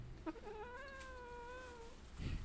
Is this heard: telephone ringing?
no